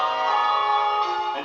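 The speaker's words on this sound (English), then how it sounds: "the armistice will be remembered by the ringing of church and town hall bells" A church bell rings out for an armistice remembrance, a single sustained metallic tone with bright overtones that lingers and slowly fades, loud and close with no talking.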